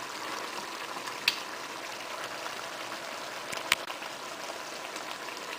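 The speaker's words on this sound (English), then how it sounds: "Simmering nicely." Eggplant chicken stew simmers in a pot with a steady, soft bubbling hiss throughout, broken by two brief sharp clicks or taps.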